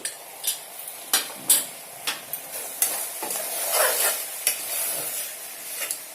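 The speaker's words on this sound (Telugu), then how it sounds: "ఒకసారి మూత తీసి ఒకసారి కలుపుదామా" A spoon scrapes and stirs cluster beans curry frying in oil in a pan, giving repeated sharp clinks and scrapes over a soft, steady sizzle.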